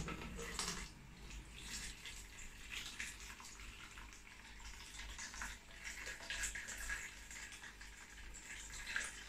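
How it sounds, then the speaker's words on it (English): Salt water carrying hatched brine shrimp poured through a small strainer, a steady close splashing trickle running continuously and fairly quietly. "I'll just get a Zist strainer now, and I'll just hold it there and pour the brine shrimp through"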